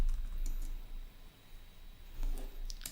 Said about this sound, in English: We will type another password.